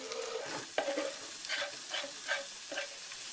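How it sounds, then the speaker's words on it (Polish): Chopped onion frying in melted butter in a pan gives a steady close sizzle, broken by repeated scraping stirs at a regular pace, with no talking. "Na masło wrzucam cebulę"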